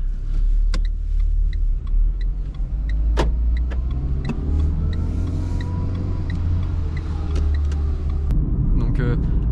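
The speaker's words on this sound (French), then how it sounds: "on va démarrer la voiture" A Renault Clio 4 engine hums low and steady from inside the cabin, with scattered clicks and a few brief voices over the drone.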